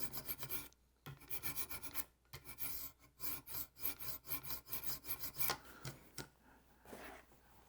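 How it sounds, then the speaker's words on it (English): A knife blade rubbed lightly on a 1000 grit stone of a Wicked Edge sharpening system, a quick run of close rasping strokes in bursts separated by brief pauses, with no talk. "turn to the 1000 and rub it lightly"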